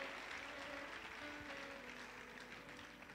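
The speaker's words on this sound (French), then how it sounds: "On peut applaudir très fort le Seigneur." Church congregation clapping at a preaching service, steady, dense applause through the whole stretch, fairly faint and distant.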